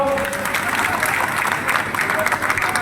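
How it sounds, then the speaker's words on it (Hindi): A crowd at a political rally in Morena claps in a loud, uneven wash of applause with crowd noise and voices mixed in throughout. "तो ताली बजाओ अगर सहमत हो"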